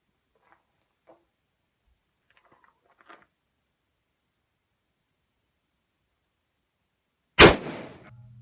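A Ruger Super Redhawk Alaskan .44 Magnum revolver firing a 240-grain load cracks out in a single very loud, sharp shot with a decaying echo, after a few faint quiet sounds.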